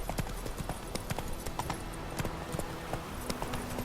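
The horse Roach galloping in The Witcher 3, a steady rapid clip-clop of hooves over a low ambient bed, moderately close and fairly quiet throughout.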